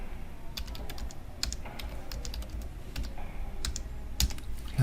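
Rapid clicking keystrokes on a computer keyboard as a password is entered while setting up a Raspberry Pi, a quiet, irregular patter of taps with brief pauses, recorded close with no voices.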